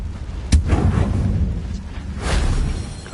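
A Confringo spell blast in Hogwarts Legacy lands as a short, muffled thump, followed by a softer whooshing burst over constant rumbling game noise.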